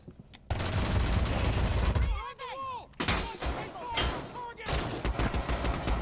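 Video-game gunfire in Rainbow Six Siege: loud, dense bursts of shots and blasts that come in waves, with brief lulls between volleys.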